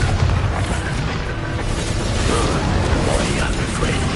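In the video game Hogwarts Legacy, the Bombarda spell erupts as a loud, dense blast of rumbling explosion and crackling debris that fills the whole moment.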